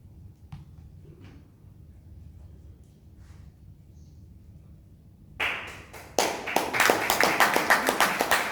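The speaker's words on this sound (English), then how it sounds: "a wonderful round of applause" Applause from a Toastmasters meeting audience in Bangalore starts as scattered hand claps and then builds into steady clapping from a small crowd, after a quiet, murmuring room.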